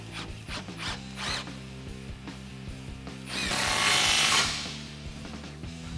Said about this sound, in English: Line it up where you want it, tighten down your clamp.